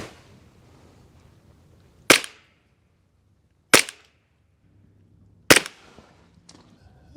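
Three sharp, loud shots from a Glock 19X 9mm pistol at a shooting range, fired about twenty feet from the target, spaced over a second apart with brief decays and quiet between them.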